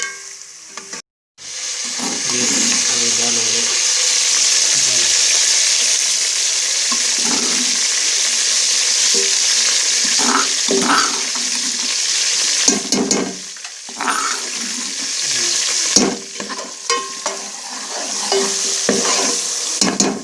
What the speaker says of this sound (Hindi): ये प्याज ब्राउन हो जाएगा